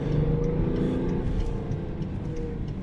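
BMW X6 with M57 diesel engine pulling under full throttle from inside the cabin, a steady low drone with broadband road roar, continuous and fairly loud, no talking.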